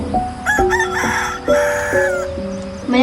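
A rooster crows repeatedly in a small village farmyard in Iloilo, its long, drawn-out calls rising and falling in several close, loud bursts, with chickens clucking faintly beneath.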